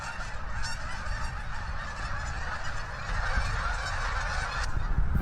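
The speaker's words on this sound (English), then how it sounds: "a massive amount of geese just flew over me just now, like more geese than I've ever seen in my life" A huge flock of geese honks overhead, a dense, continuous chorus of overlapping calls heard from a short distance that swells slightly toward the end, with no talking.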